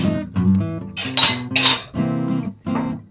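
Glass jars being readied for fig jam knock and clink together in a run of bright, ringing strikes, loud and close, with short gaps between the knocks.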